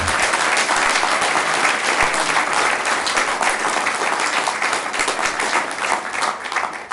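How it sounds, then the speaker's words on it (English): Loud, sustained applause from a civic event crowd, dense clapping holding steady throughout without voices standing out. "could you please give a round of applause for Councilwoman and Mayor Carol Klatt."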